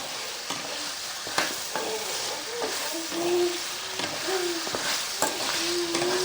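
Sliced onions frying in a pan with a pinch of salt for a country chicken curry, a steady soft sizzle with scraping spoon strokes stirring them at intervals, close and unhurried.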